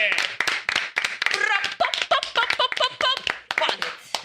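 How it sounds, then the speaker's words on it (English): Audience claps for Orisha Sound on a year-in-review show: sharp, scattered claps mixed with loud cheering voices and whoops, close and lively for about four seconds. "Ladies and gentlemen, little applause break."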